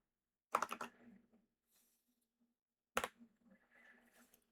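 Two short bursts of typing on a computer keyboard, quick clusters of close, faint key clicks separated by a pause, with soft trailing taps after each burst.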